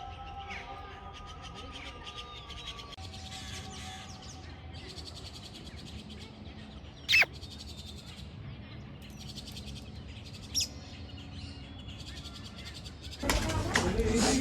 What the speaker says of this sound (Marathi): इथं पोपटासारखं काहीतरी पक्षी आहे